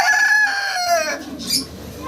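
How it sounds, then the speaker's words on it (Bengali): A pair of fancy hens call close by with a drawn-out crowing squawk followed by short clucks, loud and alone. "একজোড়া ফেন্সি মুরগি আছে ভাইয়ের কাছে"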